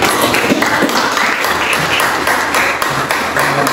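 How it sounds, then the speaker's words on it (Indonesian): Applause breaks out for a student named Hani during a school coaching and supervision session, a loud, dense wash of many hands clapping that holds steady throughout. "beri tepuk tangan untuk Hani"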